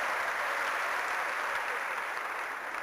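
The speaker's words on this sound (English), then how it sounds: "please give yourself a round of applause." A large crowd at a Nigerian comedy or speaking event breaks into a broad, steady wash of applause, dense and continuous, tapering slightly near the end.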